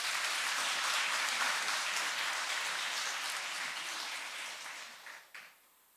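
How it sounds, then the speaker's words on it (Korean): A church congregation applauds to welcome a visiting speaker, steady, full clapping that fills the room and then tapers off and stops near the end. "큰 박수로 모시겠습니다"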